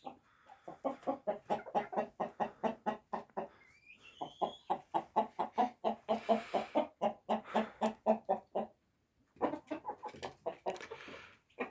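Backyard chickens and a rooster cluck in a long run of close, rhythmic, repeated calls, broken by a few short pauses, with no talking.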